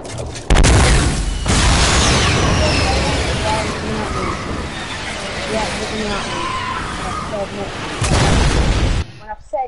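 Grenade launcher blasts in the video game Fortnite come through as a loud, dense wall of explosive rumble and debris noise. A sharp burst near the start and another near the end frame sustained booming chaos.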